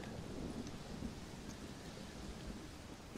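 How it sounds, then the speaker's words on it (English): A thunderstorm in the video game Red Dead Redemption: Undead Nightmare, with steady heavy rain and low rolling thunder filling the scene evenly throughout, with no voices. "Well, it's just the storm, John."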